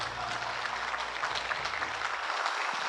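Congregation clapping together during an Easter union worship service, a dense steady wash of many hands that holds evenly for nearly three seconds, with a low hum underneath that cuts out near the end.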